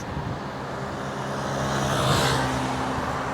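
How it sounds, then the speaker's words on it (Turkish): Steady roadside traffic rumble with a car swelling past nearby, loud and continuous, no voices, recorded on a Saramonic Air 01 mini lavalier microphone. "Şu an araçlar geçiyor."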